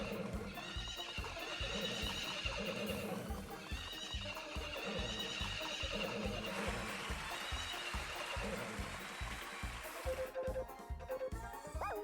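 Video game horses whinny repeatedly over steady galloping hooves during a horse race, the clip-clop rhythm continuous and fairly close throughout, no voices.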